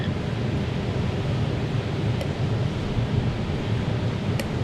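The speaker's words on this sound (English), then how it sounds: "I know the ocean's kind of loud." Ocean surf rolls onto a beach by a cave in Okinawa, a loud, close, continuous roar mixed with wind buffeting the microphone, with a couple of faint brief clicks.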